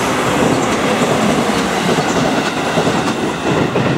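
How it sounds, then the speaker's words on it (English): A train rolls past close by near Kumbara station in urban Japan, a loud, steady rumble with a clattering wheel rhythm filling the whole stretch. "there's the train"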